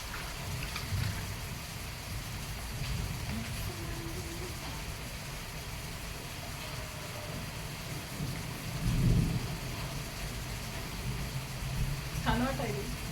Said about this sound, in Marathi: पहा झालं की नाही जोराचा पाऊस